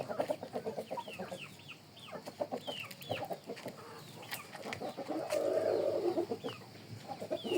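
Chickens and chicks around a drinking water container in a village yard, repeated soft clucks and peeping calls at close range, with a brief burst of louder squawking partway through.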